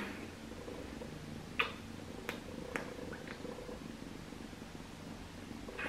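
A cat purrs steadily up close, a low rhythmic rumble, with a few soft clicks and rustles of movement over it.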